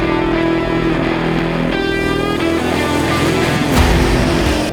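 A 2022 Ford Mustang drives along with a steady engine drone heard from inside the cabin. Road noise sits underneath, and the engine note swells briefly near the end.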